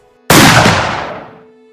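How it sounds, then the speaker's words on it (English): A single loud rifle shot cracks out sharply at close range from a soldier's rifle discharged into the air during a struggle, then decays over about a second into a rolling echo, with no voices. "Hearing the sound of the gunshot"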